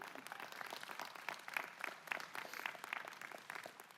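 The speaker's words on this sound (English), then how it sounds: "clap for her, there you go" An audience at a UC San Diego college graduation ceremony applauds steadily, a soft, distant wash of many hands clapping that continues throughout without pause.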